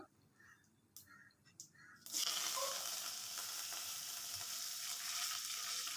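Crushed garlic cloves fry in hot oil, a quiet start with a few soft clicks before a loud, steady sizzle erupts about two seconds in and holds to the end.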